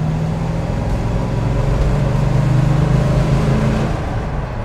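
A 1971 Plymouth Road Runner with an air grabber hood runs smoothly, its engine giving a steady, loud, low rumble with a slight swell in the middle and no talk over it.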